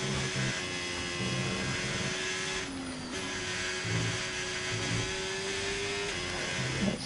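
An F1 race car engine in F1 2020 drones steadily with a harsh, uneven tone suggesting it is running rough, a continuous buzzing whine at moderate loudness with no talk over it.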